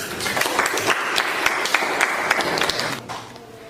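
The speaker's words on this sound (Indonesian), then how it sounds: "tepuk tangan dulu" Students in a classroom during a math lesson on determinants clap together, a lively burst of many close hand claps with distinct sharp hits that thins out near the end.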